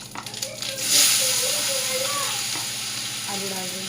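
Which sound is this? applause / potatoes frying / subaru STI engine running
potatoes frying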